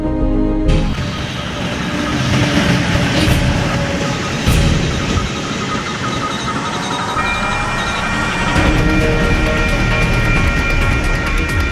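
A runaway freight train rolls along the rails in a movie scene, a loud, continuous heavy rumble with metallic clatter and faint wheel squeal throughout.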